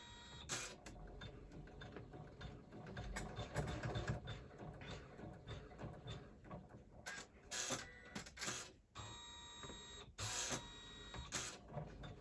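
An embroidery machine sews travel stitches on an in-the-hoop mini tote bag with a tearaway backing, a steady, busy mechanical whirring and rapid needle chatter that runs throughout, with brief sharper clicks, close and without speech.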